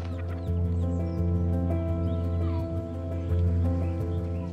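Chickens cluck close by, soft repeated clucks over a steady low hum.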